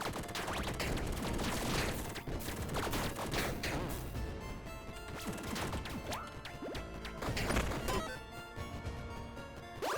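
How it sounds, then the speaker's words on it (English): Loud, dense crashing blasts and bursts fill the whole stretch, with sharp repeated impacts and layered debris-like noise from an explosion in the roguelike video game Tiny Rogues, no voices over it. "that explosion's pretty good."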